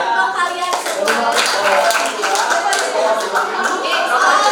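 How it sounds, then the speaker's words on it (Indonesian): Classroom group clapping for students during a coaching supervision lesson in Indonesia, a steady burst of many hands through the whole stretch with a teacher's voice talking over it. "Dan tepuk tangan untuk kalian semua."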